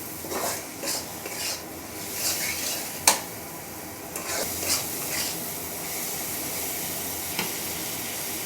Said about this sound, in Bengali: সমস্ত মশলাটা পেঁয়াজ এবং টমেটোর সঙ্গে নেড়ে চেড়ে মিশিয়ে নেব